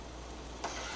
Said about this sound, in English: So this is going to keep boiling for a while.